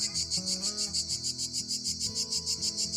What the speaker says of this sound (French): il y a la sauterelle qui chante